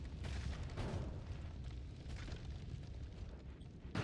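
Muffled explosions rumble in the roguelike video game Noita, several low booms and bursts scattered across a continuous noisy background.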